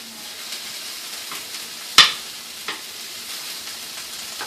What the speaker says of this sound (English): We're now going to add this to our saucepan and start browning it.